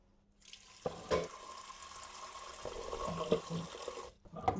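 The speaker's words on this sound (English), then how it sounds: "now I'm going to fill it with some water" Tap water runs into a pressure cooker holding washed breadnut in a home kitchen, a steady close splashing stream that starts and stops, with no talk over it.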